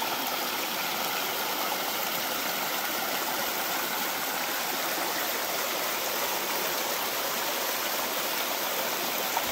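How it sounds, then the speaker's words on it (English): A waterfall in the Hundred Mile Wilderness roars steadily and close, its broadband rush of falling water continuous and unbroken throughout with no voices. "nice waterfall here"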